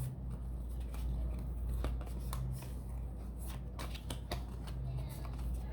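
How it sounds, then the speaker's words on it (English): Tarot cards are shuffled by hand in a rapid series of crisp riffling snaps and flicks, close and fairly quiet, with a faint background hum. "they mix the cards"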